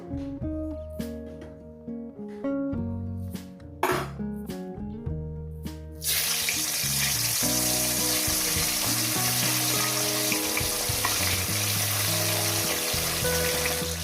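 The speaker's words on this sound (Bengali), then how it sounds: "মাছগুলো দিয়ে দিয়েছি মাছগুলো আমি এক দু মিনিট করে ভেজে নেব" Small fish are laid in hot oil to fry. After several seconds of background music, a loud, dense, continuous sizzle bursts in and holds steady at close range to the end.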